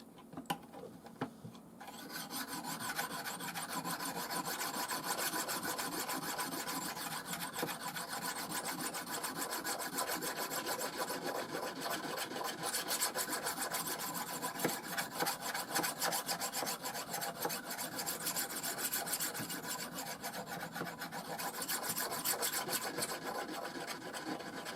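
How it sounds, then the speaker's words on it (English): A knife drawn over the 800-1200 grit side of a banded jasper whetstone, making a continuous close, gritty rasping with quick back-and-forth strokes that keep an even pace throughout, with no talking. "now we're going to use the back side of the stone. Okay, it's the 800 to 1200 grit."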